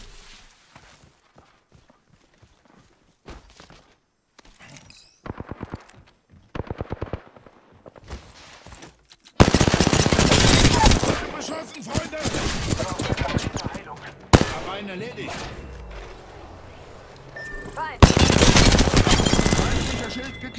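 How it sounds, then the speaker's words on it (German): Gunfire in Apex Legends: scattered single shots and short bursts at first, then loud sustained automatic fire in long stretches with brief breaks, mixed with game sounds and some voice. "Ich stehe unter Beschuss."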